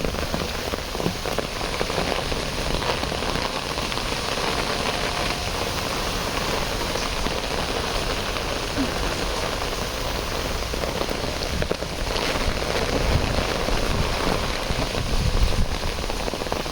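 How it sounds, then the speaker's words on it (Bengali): Steady rain pours down on a surface, a dense continuous patter that holds evenly throughout with no voices. "আমার এলাকায় তো বৃষ্টি হচ্ছে"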